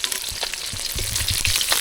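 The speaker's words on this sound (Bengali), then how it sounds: "আর এই যে মাছটা ভাজছি" Pieces of silver carp fry in hot oil in a pan for a spicy Bengali fish curry, giving a continuous crackling sizzle with small pops, close and alone.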